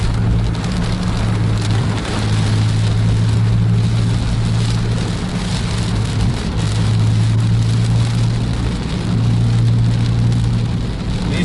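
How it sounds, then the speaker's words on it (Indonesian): Heavy rain drums steadily on a surface as Scania K410 buses travel along a road in a downpour. A low engine rumble rises and falls beneath the constant, loud hiss. "Cukup lebat hujannya."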